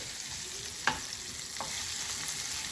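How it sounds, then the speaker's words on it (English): Eggplant and mixed vegetables sauté on a tawa with a steady, close sizzling hiss, broken by a single sharp utensil tap and a fainter clink. "This is sauteing away."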